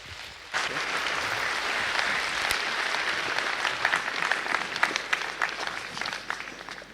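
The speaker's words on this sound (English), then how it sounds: "Please give her a resounding round of applause." An audience claps in a sustained round of applause welcoming a speaker onto the stage at a 2016 conference event in Abuja, the dense clapping starting abruptly and staying steady and loud with no talk over it.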